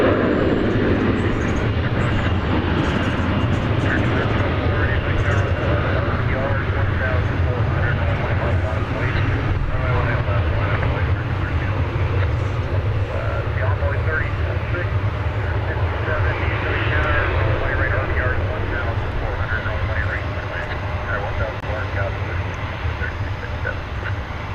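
A McDonnell Douglas MD-11 passes at DFW Airport in the early morning, a loud continuous jet rumble with a steady low drone throughout, voices talking faintly beneath it.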